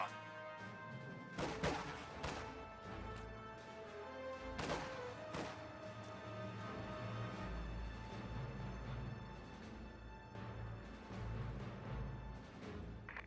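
Distant combat in a video game battle as combat engineers fire on grenadiers: faint, scattered crashes and gunfire cracks, with a few sharper impacts, over a steady rumbling backdrop.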